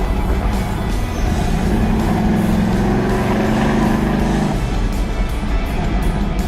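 An old restored truck rumbles along while being driven, its engine a loud, steady low drone throughout with a rising whine partway through, and no voices.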